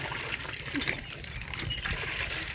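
Water pours steadily into a container, a continuous rushing, splashing stream that stays close and even for the whole stretch.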